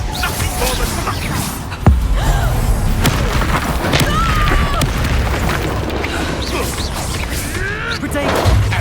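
A Confringo fire spell in Hogwarts Legacy bursts with a single heavy boom about two seconds in, then a rumbling tail under continuous battle noise.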